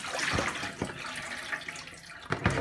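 Tap water runs and splashes over raw chicken being rinsed in a sink before cooking, a steady near stream broken by several louder splashes and slaps as the meat is turned under the flow.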